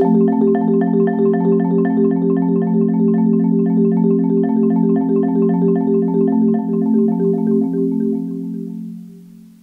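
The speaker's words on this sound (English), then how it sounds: "Listen how quietly you can play the ripple roll." A soft, steady four-mallet ripple roll on a marimba, notes blurring into a sustained shimmering chord that fades out at the end.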